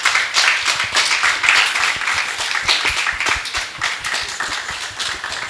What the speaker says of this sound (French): est-ce qu'on peut applaudir pour nos panélistes